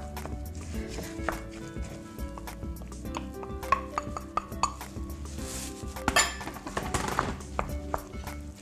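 Christmas pudding ingredients are stirred together in a bowl, with a utensil clinking and scraping against the dish in an irregular rhythm, close by and fairly quiet.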